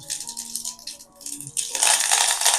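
Curry leaves go into hot oil with mustard seeds in a pan while bitter gourd is being sautéed for pitlai. Soft crackling at first gives way to a louder, steady, bright sizzle and spatter that fills the second half.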